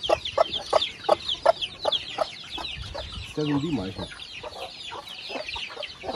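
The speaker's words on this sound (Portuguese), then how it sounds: "galinha de novo" Farmyard chickens clucking in rhythmic bursts, close and clear, with a hen's repeated clucks early on and a brief rising squawk midway; someone speaks softly near the start.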